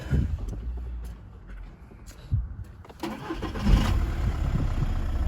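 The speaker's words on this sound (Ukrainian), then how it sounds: "Дивимося, як заводиться автомобіль." A 2009 Volkswagen Golf with a 1.9 TDI diesel engine cranks and fires up, with a brief starter whir, a catch, and a rise into a steady running engine near the microphone.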